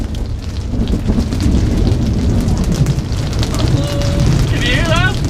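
A thunderstorm at Angkor Wat in Siem Reap, Cambodia brings low thunder rumbling under a steady rain, loud and close, while birds chirp briefly near the end.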